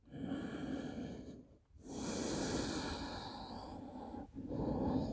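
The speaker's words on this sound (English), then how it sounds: "breathing deeply" Deep, slow breaths during a gentle home exercise routine: long steady airy inhales and exhales close to the microphone, two sustained breath cycles separated by brief pauses, with no talking.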